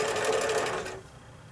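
A sewing machine stitching a quarter-inch seam on a quilt block hums with a rapid steady whir for about a second, close and alone, then stops.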